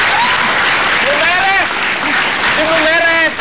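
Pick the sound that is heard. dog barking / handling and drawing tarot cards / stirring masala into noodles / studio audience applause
studio audience applause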